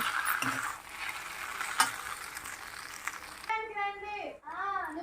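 Veg noodles being stirred and tossed in a hot pan, a steady sizzle with scraping stirs, before a voice starts talking over the frying toward the end.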